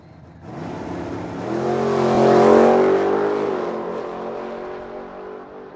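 Team Z Camaro drag race car launching from the line at a summer drag racing event in Medicine Hat, Alberta; a single loud engine roar builds quickly, peaks, then slowly trails off as the car pulls away.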